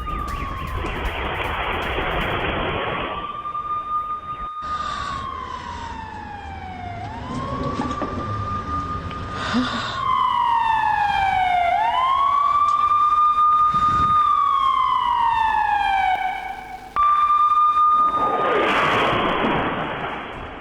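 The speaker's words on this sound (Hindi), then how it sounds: "धमाके से पहले सुनाई दी सायरन की आवाज भी।" Air raid siren wailing in Belgorod before an explosion, a loud sustained tone sweeping up and down in long slow cycles with overlapping pitches, continuous for about twenty seconds.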